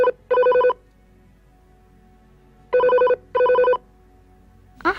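A telephone bell rings in two paired bursts separated by a pause, loud and close, with a third ring just beginning at the end.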